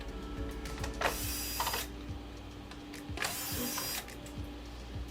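Plastic screws being backed out of the rear cover of a Sony XBR-55X900C television, a close ratcheting screwdriver clicking in two longer bursts with small creaks between, no talking.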